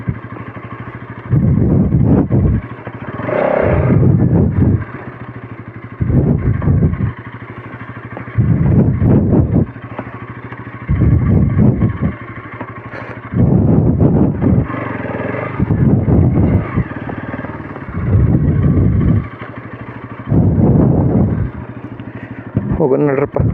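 A Bajaj Pulsar NS200 motorcycle ridden on a rough road toward a sunset point near Belagavi, its steady engine and wind rumble close to the microphone, broken by repeated louder bursts with a voice talking intermittently over it.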